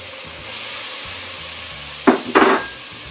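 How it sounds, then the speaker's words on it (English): Garlic and fish for a Brazilian moqueca sizzle in a pan over medium heat while being stirred; a low background hum breaks into two short, sharp bursts of hissing frying noise. "I keep stirring it so it doesn't burn. And then I throw in my fish."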